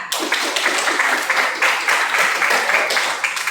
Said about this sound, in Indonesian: tepuk tangan untuk Kak Sisa